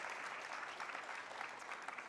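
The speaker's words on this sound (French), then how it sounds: "On peut aussi la saluer et l'applaudir" An audience at a conference on media and popular culture applauds a photographer, a steady, even patter of many hands clapping at moderate distance, fairly soft, without voices.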